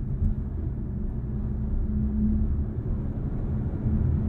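A Dodge Hornet R/T's engine drones as a steady, close low rumble from inside the cabin under full-throttle power shot, with no sharp rise in pitch.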